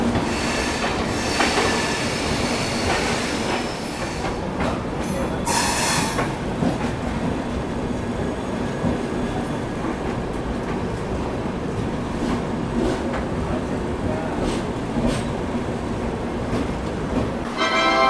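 The Dibrugarh Rajdhani Express rolls into platform 1 at Katihar Junction beside the Mahananda Express, a loud steady rumble of wagons with wheel squeal and clatter throughout, no voices.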